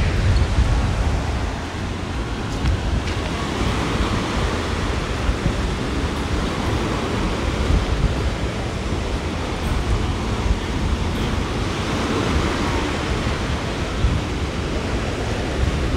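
Ocean waves wash steadily onto Sunset Beach on Sanibel Island, Florida, a continuous broadband roar of surf with wind, heard alone without voices.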